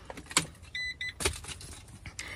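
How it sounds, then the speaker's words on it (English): Car keys jingle in quick, faint bursts inside a van, with a couple of short clicks and mechanical whirs between them, heard close up with no talking. "And Goliath, let me get the keys"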